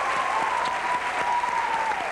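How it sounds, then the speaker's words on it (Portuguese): Studio audience applause on a Brazilian television talk show, steady and loud clapping from a crowd that fills the whole moment without pause. "Salva de palmas aqui"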